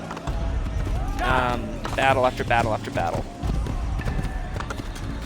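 A horse gallops with rapid rhythmic hoofbeats during a battle in Assassin's Creed, a medieval action video game, while someone talks over it almost throughout and the hooves sit beneath his voice.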